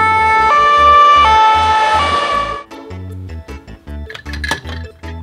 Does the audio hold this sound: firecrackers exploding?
no